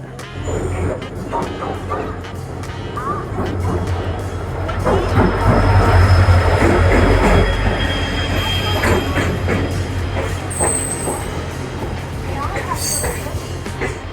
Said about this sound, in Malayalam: പോകേണ്ട ട്രെയിൻ വരുന്നുണ്ട്